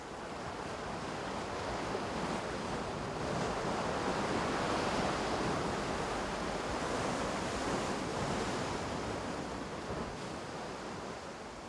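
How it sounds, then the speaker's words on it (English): Sea waves surge against abandoned coastal buildings, a steady broadband roar of surf and wind that holds close and loud for the whole stretch with no voices. "first you hear a big noise and then enormous waves arrive"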